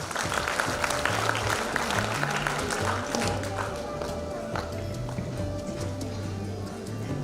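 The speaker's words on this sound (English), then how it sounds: "Give them a big round of applause." A school family jamboree audience claps for contestants, dense continuous applause that fills the room and fades slightly near the end, with a steady hum underneath.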